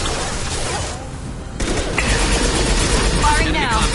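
Gunfire in Mass Effect 2 rattles as a continuous loud fusillade of rapid shots, easing briefly before surging back with heavier bursts and battle noise.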